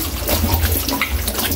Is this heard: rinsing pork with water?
yes